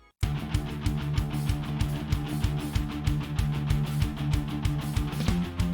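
Palm-muted electric guitars chug a steady rhythm over a basic drum beat in an anime battle theme, loud and continuous after a brief silent start.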